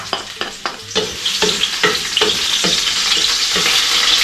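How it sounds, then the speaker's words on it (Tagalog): Garlic hits hot oil in a pan and sautés, starting with sharp crackles and spatula taps that build into a loud, continuous sizzle close by. "Lagay na po natin yung bawang. Isa na po natin igisa."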